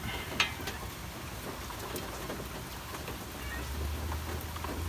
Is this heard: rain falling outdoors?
yes